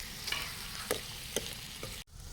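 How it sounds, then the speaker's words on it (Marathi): Onions frying in a pan hiss steadily while a utensil scrapes through them in a few distinct, close stirring strokes, with no talking. "इथं कांदा हलव"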